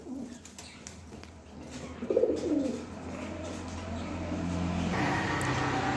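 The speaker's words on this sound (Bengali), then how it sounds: "খুবই সুন্দর দেখবার মতো এক পেয়ার কবুতর" A pair of domestic pigeons coo softly nearby, low throaty burbling calls rising briefly in the middle over a steady background hum, with faint chirps around them.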